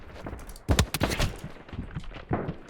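Bursts of rapid gunfire with sharp cracks and a few separate shots in the game BattleBit Remastered, set against a busy background of game effects.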